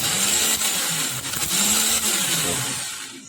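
A D4D starter motor spins freely on a bench test, giving a loud, steady electric whine and whir with a slight wavering pitch before it starts to wind down at the end.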